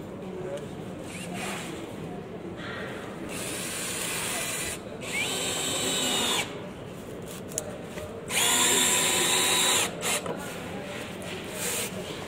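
A power drill drives screws into polystyrene insulation boards in several whirring bursts of varying length between pauses, close and fairly loud, with people talking in between.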